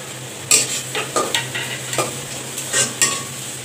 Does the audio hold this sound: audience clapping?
no